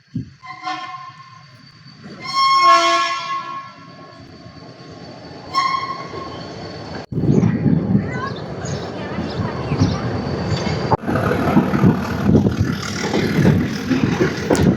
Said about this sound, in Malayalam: അങ്ങനെ കേത്തി റെയിൽവേ സ്റ്റേഷനിൽ നിന്നും വീണ്ടും ട്രെയിൻ മുന്നിലേക്ക് പുറപ്പെടുവാണ്